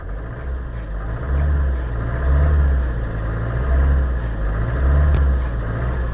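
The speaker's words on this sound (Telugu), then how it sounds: "ఒకసారి రేస్ చేస్తాను చూడండి" A Maruti Ciaz car engine idles up close and is revved several times in slow swells. The steady low hum rises and falls with each rev, and no voices are heard.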